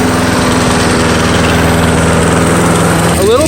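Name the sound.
Snapper push lawn mower engine running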